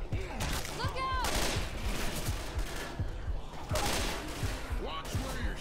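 Rapid, dense gunfire in the video game Left 4 Dead 2, continuous bursts of shots over game noise, with players talking over it.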